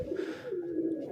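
Pet pigeons cooing softly nearby, a low burbling coo rolling on for about a second with no voices.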